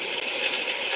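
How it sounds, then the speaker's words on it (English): Greenhouse ventilation fans at an urban horticulture center run with a steady, even broadband whoosh and hum, holding constant for the whole second with no talking. "I think the sound you hear is not the bees themselves, but the fans on the greenhouses."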